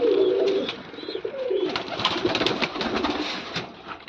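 Racing pigeons kept by a club coo near at hand in a loft with their chicks, low throaty calls repeating in short bursts over a soft rustling background.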